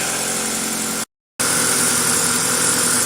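Engine of a 2000 Toyota Celica GTS running at high idle, a steady loud droning hum with a brief total cutout of sound partway through, no talking.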